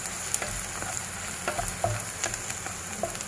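A spring roll filling of chopped onion, garlic and carrot frying in a pan, giving a low steady sizzle with scattered light spatula clicks and scrapes at close range and no talking.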